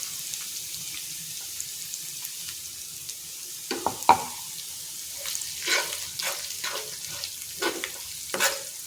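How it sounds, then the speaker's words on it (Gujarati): Ground spice masala for samosa filling sautéing in oil with ginger and chillies, a soft steady sizzle with intermittent scraping stirs and clinks in the second half. "મસાલો આપણે તેલમાં સાતડીએ તો એનો ફ્લેવર સરસ આવે"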